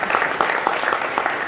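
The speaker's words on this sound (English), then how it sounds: "Let's give them a round of applause for their great work and efforts." Audience at a public forum on the opioid epidemic clapping for panelists, a steady, even patter of applause throughout the short moment.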